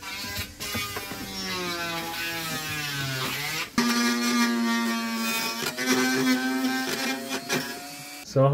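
A close, loud power sander whines on a boat's fiberglass shower sump, a harmonic motor drone that shifts pitch as it presses and lifts, briefly cutting out midway before resuming.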